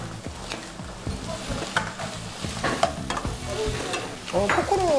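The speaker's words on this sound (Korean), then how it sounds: "포크로 젓는 건 어떻게 알았어요?" A fork stirring and whisking food in a bowl, rapid scraping and clinking strokes in a steady rhythm, close and fairly loud, with a brief whistle-like squeak near the end and no talk.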